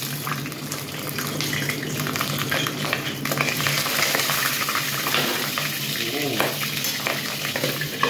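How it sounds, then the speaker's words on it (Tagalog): Pork belly deep-frying in hot oil, a close, continuous bubbling and crackling fry with occasional stirring clatter. "Prito na natin yung ating lechong kawali. Kumukulo na yan."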